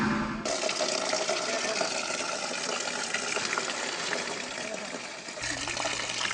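Water gushes steadily from a tap in Dieuk, Mauritania, a loud continuous splashing flow that runs throughout and shifts slightly near the end.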